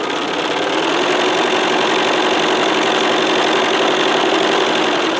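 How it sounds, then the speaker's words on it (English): A sewing machine stitches quilting fabric for half-square triangle units, giving a steady, loud, continuous mechanical whir with a fast even rhythm close by and no talking. "Sew to the other end, and then snip the first one off."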